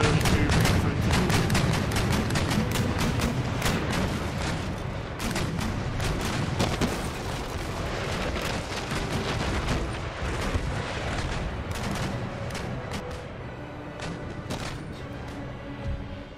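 Bomb ketch artillery fire in Empire Total War naval battle, a long run of booming cannon shots and scattered gunfire, dense at first and thinning out later, steady and mid-distance with no talk.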